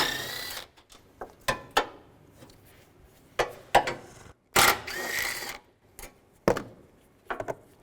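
Sharp metallic ratcheting clicks and clanks from a 10mm socket wrench loosening the radiator bracket bolts on a Cadillac DTS, coming in irregular close bursts with short quiet gaps between.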